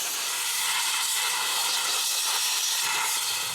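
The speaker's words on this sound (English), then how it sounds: "Get some compressed air and we'll blow out the clutches." Compressed air blasts from a nozzle into the clutches of a Can-Am Maverick X3, a loud, continuous close-up hiss that holds steady throughout.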